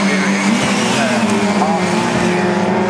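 Several race cars brake and downshift into the Mountain corner at Cadwell Park, a loud continuous engine roar with rising and falling pitches, heard under commentators talking.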